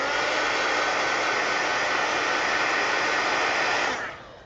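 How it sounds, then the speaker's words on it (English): A heat gun blows steadily over colored paper in an adult coloring book, a loud close continuous airy roar that holds level and then winds down at the end. "hit it with the heat gun, which is what I'm going to do to speed it up here"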